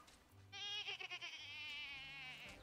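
A sheep in the farming video game Wylde Flowers gives one long, wavering bleat that opens with a quick trembling stutter and then holds steady, clear and close over quiet background game music.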